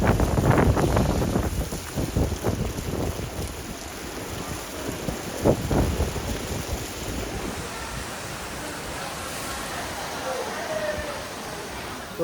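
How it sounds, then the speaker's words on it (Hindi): Heavy tropical rain pours steadily on the island of Maafushi in the Maldives, a dense hiss with gusty wind and a distant low rumble, with people talking over it early on. "इतनी तेज़ बारिश शुरू हो गई यहाँ पर।"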